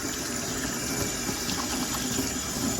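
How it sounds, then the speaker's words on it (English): Tap water runs steadily into a sink as hands are washed after mixing butter for popcorn, a continuous close gushing wash with no talking. "So I'm gonna wash my hands."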